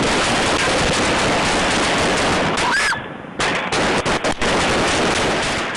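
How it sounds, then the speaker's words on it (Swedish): Gunfire during a 26-second firefight in which 37 shots were fired, rapid bursts of loud shots crackling almost without pause, with a brief lull in the middle before more shots follow, and no voices. "Under den 26 sekunder långa eldstriden hann Gilkerson avlossa 37 skott"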